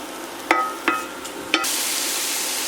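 A mixture of onions and salt stirred in a pan, with a few sharp utensil knocks against the pan at a steady pace, followed by a continuous hiss of frying.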